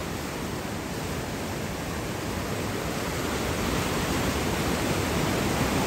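Strong water current rushes through a large dam in Pampanga as a steady, dense roar, loud and continuous from close by with no voices.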